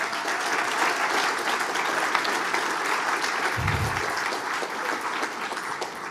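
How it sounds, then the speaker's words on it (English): An audience at a real estate summit panel gives a round of applause, dense and continuous clapping that holds steady for several seconds, with a brief low thump near the middle. "How about another round of applause"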